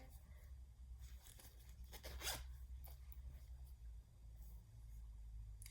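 The side zipper of a Vera Bradley coin purse is drawn in one quick, scratchy zip, heard close against a low, steady background hum.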